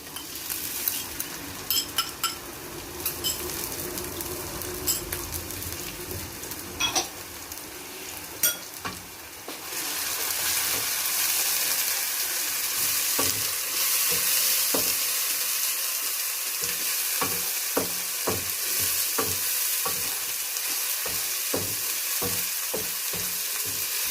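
Loud, steady sizzling of garlic-ginger paste frying in a hot pan, with occasional stirring clicks and scrapes; no talking.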